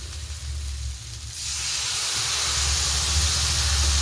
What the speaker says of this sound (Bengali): এখন অল্প একটু জল দিয়ে এটাকে ভালো করে আরও কষাবো